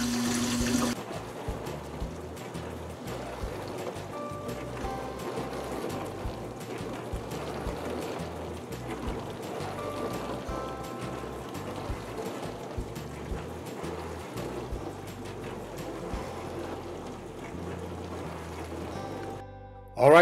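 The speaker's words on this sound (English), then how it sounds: "I finally hear the water draining out." Steady trickling and splashing of water draining from a Frigidaire dishwasher after a clog, continuous and fairly faint, with no voices.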